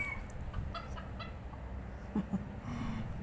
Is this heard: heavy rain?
no